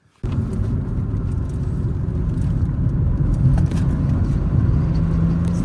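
A convertible with its top down drives steadily along a road in Crete, its engine and wind noise forming a loud, continuous rumble that starts abruptly and holds for several seconds.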